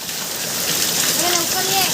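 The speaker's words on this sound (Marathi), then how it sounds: "पाऊस पण खूप आहे" Heavy monsoon rain pouring outdoors in the Konkan on a morning walk, a dense, even hiss filling the whole stretch close around, with faint tonal sounds briefly rising midway.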